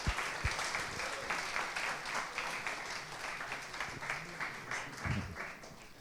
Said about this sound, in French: je vous propose de tous l'applaudir avant qu'il débute